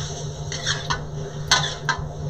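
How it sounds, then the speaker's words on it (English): Prawns being stirred in a Szechuan peppercorn oil sauce in a pan, giving several brief utensil scrapes and clinks spaced across a couple of seconds over a steady low kitchen hum. "Quick stir."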